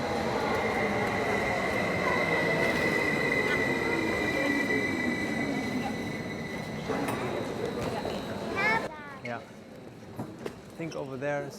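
A metro train rumbles and screeches through an underground station in Helsinki, with steady loud rolling noise and a long high wheel squeal that fades as it slows, followed by a person talking nearby.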